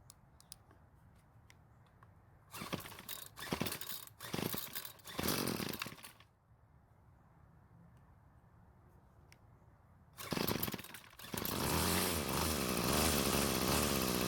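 A Bolens BL100 string trimmer's small two-stroke engine running at half choke, revving loudly in several bursts, falling away to a quiet idle between them, then roaring up again and holding a steady high-pitched whine at the end.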